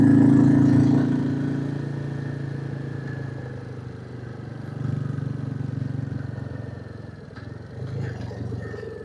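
A Royal Enfield Classic 350 motorcycle engine labouring up a tight hairpin climb, a steady mid-pitched thrum that dips and swells as the rider works the gears, heard close throughout without talk.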